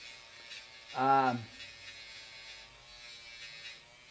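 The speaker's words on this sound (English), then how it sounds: "polishing off some of the burned area" A rotary tool polishing burned solder on a sunglasses frame gives one short, high buzzing whine of about half a second, then falls back to quiet room noise.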